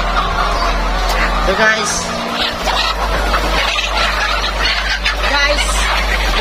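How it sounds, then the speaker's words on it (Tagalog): Layer-type chickens on a farm raise a dense, continuous clucking and squawking chorus inside a poultry building, over a steady low hum; someone talks over the flock. "Mga layer type namin na mamanok, guys."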